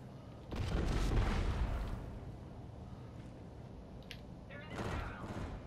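Heavy gunfire rattles through a Call of Duty: Infinite Warfare Domination match: a loud, dense burst of shots early on, then sustained firing with a further surge near the end.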